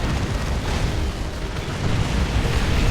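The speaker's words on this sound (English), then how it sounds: "that was a rocket barrage that did almost nothing to the Terminators" Rocket barrage explosions from the video game Dawn of War II: Retribution, a dense continuous rumble of overlapping blasts and booms, loud and steady throughout without clear gaps.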